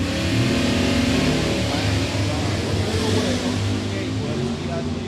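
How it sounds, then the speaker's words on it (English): A Malibu drag racing car launches and accelerates down the strip, its engine loud and sustained at close range with an announcer talking over it. "Gatewood as he unleashes the Malibu"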